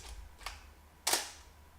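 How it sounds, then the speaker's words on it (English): Shutter of a Canon F-1 film camera firing close up, a faint click followed by a sharper, louder mechanical snap, heard alone in a quiet room. "That's the shutter sound."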